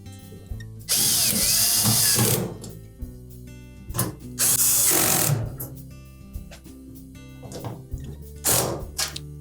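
A power drill drives screws into a Samsung dryer panel during a door strike repair, whirring in three long loud bursts separated by quieter clicks, handling noises and pauses, close up.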